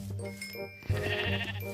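A sheep in the video game Minecraft bleats briefly and clearly against a steady background hum, with no speech.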